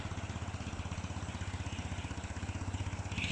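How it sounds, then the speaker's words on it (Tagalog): A motorcycle engine running close by at a steady low idle, its even rapid pulsing throb continuing unchanged throughout. "Ayan ang motor."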